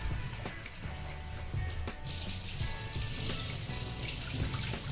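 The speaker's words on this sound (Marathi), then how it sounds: "आता या चणा डाळ आपल्याला व्यवस्थित स्वच्छ असे दोन ते तीन पाण्यामध्ये धुवून घ्यायची आहे" Chana dal (split chickpeas) rinsed in a bowl under running tap water, a steady trickle and splash with small clinks throughout, close and continuous.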